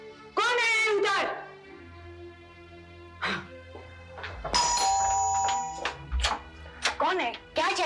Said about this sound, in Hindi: क्यों बार बार घंटी पे घंटी बजाए जा रहे हो?